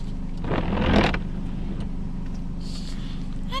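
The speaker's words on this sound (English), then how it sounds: "That car just did something weird." A car drives up close by and pulls in to park, its engine swelling in a short, loud burst before settling into a low, steady rumble.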